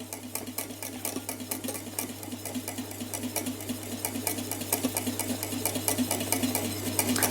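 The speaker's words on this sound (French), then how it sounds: "Vous voyez, si j'arrête de mélanger, on voit bien qu'elle bout." Strawberry rhubarb mixture boils in a pan under fast, even stirring, a steady train of soft scraping strokes several times a second over a constant low hum, with no talking.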